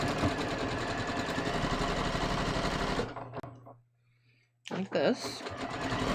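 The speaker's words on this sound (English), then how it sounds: "So I'm just going to sew this shut so I don't have a hole in my" A sewing machine top stitches a pocket bag shut, running in a fast, loud, steady burst for about three seconds, then stopping, then starting again briefly; a voice speaks over the end.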